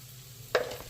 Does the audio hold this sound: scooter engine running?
no